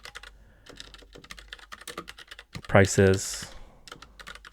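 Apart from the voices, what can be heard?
typing a prompt on a computer keyboard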